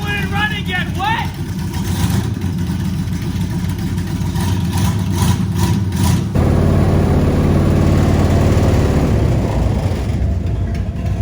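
A badly blown-up V8 engine runs rough and loud at idle, its lumpy rumble continuing throughout while people talk over it.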